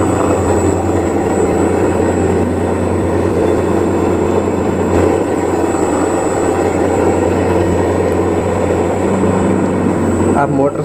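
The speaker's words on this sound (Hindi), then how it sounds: "मैंने मोटर को रन कर दिया, अब देखिए मोटर फॉरवर्ड घूम रही है।" A VFD-controlled electric motor runs forward, giving a steady, loud, continuous drone with a low hum and no breaks.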